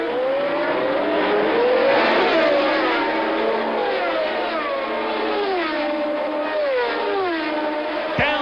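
1979 Formula 1 cars race at the Long Beach Grand Prix street circuit, several loud engines screaming and swooping in pitch as they pass and rev, densely layered and close throughout.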